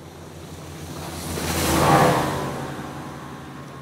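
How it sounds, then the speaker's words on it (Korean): A ranger boat sound effect: water splashes and surf swell in a single pass, rising to a peak near the two-second mark and fading away, with a windy wash and no voices. "물 위에를 이렇게 찰펑찰펑 하는 소리까지 이렇게 들리죠?"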